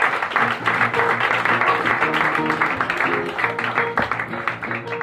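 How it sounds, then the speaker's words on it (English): An audience in a pub theatre claps for a contestant on a live comedy game show, producing dense, steady applause over a bed of music for several seconds. "Let's give her a round of applause"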